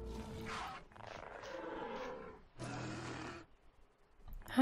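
An Achillobator creature in the video game ARK lets out a series of strange growling roars in several bursts, moderately loud, with a short quiet gap before a final sharp cry.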